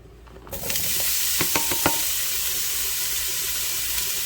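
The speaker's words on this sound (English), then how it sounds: "We're gonna move that around in the bottom of the pan. Start off with our sausage" Sausage sizzles steadily in the bottom of a hot pan for red beans and rice, a loud broadband frying hiss starting about half a second in, with a few sharp stirring scrapes near the start.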